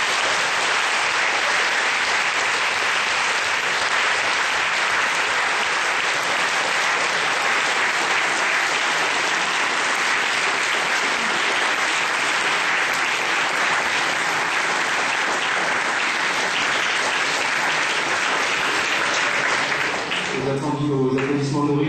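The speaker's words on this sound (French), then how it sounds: "Aux applaudissements nourris, j'en déduis que malgré les polémiques, ça a été un débat intéressant." An audience in a university lecture hall applauds after a debate on Islamic-Christian dialogue. The clapping is loud, sustained and dense for about twenty seconds before it fades and a voice begins speaking.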